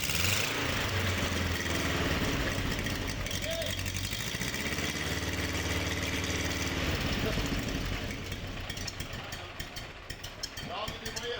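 A car engine runs steadily at idle with a low rumbling drone under nearby talk, then softens slightly toward the end.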